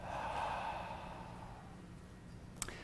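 A slow, deep exhale during a guided mindfulness breathing exercise, a soft breathy rush fading over a couple of seconds, close and quiet, with no talking.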